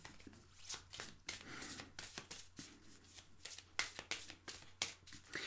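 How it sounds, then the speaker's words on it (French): Oracle cards are shuffled by hand in a quick series of soft riffling slides and flicks, close and quiet, with no voices. "Les cartes glissent divinement bien."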